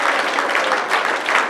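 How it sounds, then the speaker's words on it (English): A church congregation gives a sustained burst of hand clapping in praise during an altar call, dense and steady, loud and close throughout. "Let's give the Lord a big hand clap of praise for these two."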